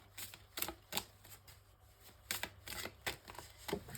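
Tarot cards are shuffled up close in quick bursts of riffling and soft slaps, with short pauses between the bursts.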